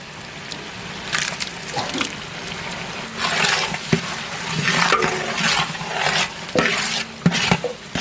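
A spoon scrapes and stirs through biryani marinade of curd and lemon juice in a bowl, producing wet squelching and clinking strokes in uneven bursts, close and fairly loud with no talking.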